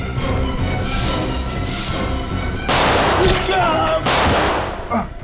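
Several sharp gunshot-like bangs burst in quick succession over a loud, noisy background, sounding fairly close and chaotic.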